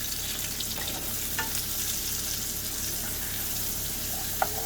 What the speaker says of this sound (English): We're going to throw in the veg. Then mix it up together.